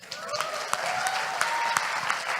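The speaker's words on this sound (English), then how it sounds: "More round of applause for Gusti Hayu" An audience at a panel session claps for a presenter, a dense, sustained round of applause with a few sharper individual claps standing out, filling the room without any speech.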